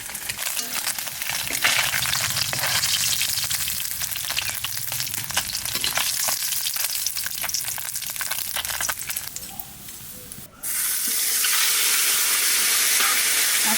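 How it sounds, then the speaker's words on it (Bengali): Fresh pond fish frying in a pan, a steady loud sizzle and crackle of hot oil throughout, swelling into a stronger hiss near the end with no talk over it. "এত সুন্দর টাটকা মাছ ভাজছি"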